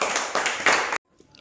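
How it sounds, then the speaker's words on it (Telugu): Young children in a Grade 1 and 2 primary school classroom clap together in three quick rhythmic bursts before the applause abruptly stops, leaving near silence. "క్లాప్స్"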